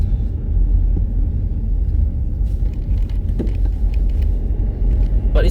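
Steady low rumble of a BMW 320d with a B47 diesel and stage 2 tuning rolling slowly over rough, uneven roads, heard from inside the cabin with occasional small bumps and rattles over a constant drone.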